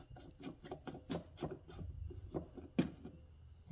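The air filter on a Fortress 27-gallon 200 PSI oil-free air compressor is unscrewed by hand, giving a series of close, dry rubbing and scraping turns with small clicks in an irregular rhythm.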